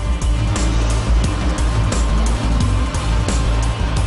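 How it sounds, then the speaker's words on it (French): Log truck hauling branch and thinning wood pulling in at a large paper mill in Virton, a loud continuous diesel engine drone with repeated sharp clanks and knocks, close by, with no talking. "C'est un des 250 camions que nous approvisionnons journellement"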